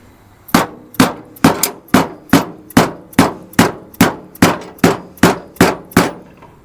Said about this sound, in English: let me find my deadbolt hammer